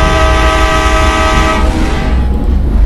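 Train sounds inside the video game Stasiun Kalimedi: a loud, steady rail rumble with a sustained horn-like tone over the first half that fades out, leaving the continuous rolling noise alone.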